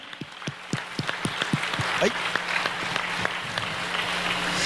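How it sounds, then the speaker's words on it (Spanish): Church congregation clapping in rhythm after the preacher calls for applause to the Lord, a steady run of sharp claps with a shouted voice and talk mixed in. "Dale un aplauso al Señor"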